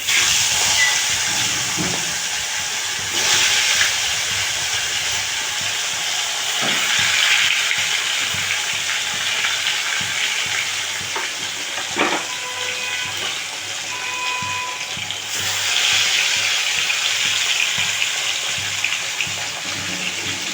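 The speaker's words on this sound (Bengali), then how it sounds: "সামান্য হলুদও দিয়ে দিলাম তেলে। মাছটা ছেড়ে দিলাম।" Tilapia fish frying in hot oil with a little turmeric, a loud continuous sizzle and hiss close by with occasional pops and crackles, sustained for the whole stretch.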